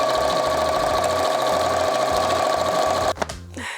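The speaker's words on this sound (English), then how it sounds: "I'm just putting up the raw edge up against my 1/2 inch seam allowance on my needle plate and just sewing from one edge to the other" A sewing machine runs steadily, stitching a straight seam along the raw edge of a colour-blocked tote bag panel. Its whir is close and continuous, then stops abruptly near the end, leaving a few soft handling noises.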